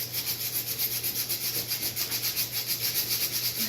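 Glass being scrubbed with a gritty abrasive to lift tape marks, a steady rhythmic back-and-forth rubbing, close and continuous with no talk.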